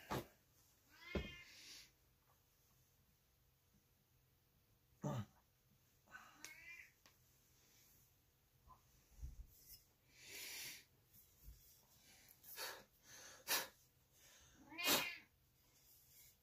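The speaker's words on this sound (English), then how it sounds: "there's my kitty cat." A house cat meows several times in a quiet workshop where an axe is being hand-sharpened without power tools, giving short, fairly faint calls spaced irregularly among sparse knocks and scrapes.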